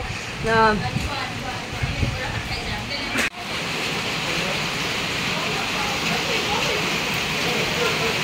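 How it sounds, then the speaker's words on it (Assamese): Heavy rain falls outside with a steady, dense hiss that fills the background. A voice is heard briefly at the start over the downpour. "এয়া বৰষুণ দি আছে"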